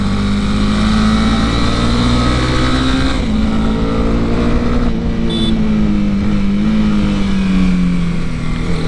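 A Honda CB 300R motorcycle accelerates out of a corner, its engine droning loud and steady close by with a rising, wavering pitch, and no talk over it.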